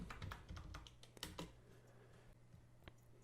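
Quick bursts of keys tapped on a computer keyboard, a brisk cluster of clicks up front, then a few sparse strokes, close and quiet.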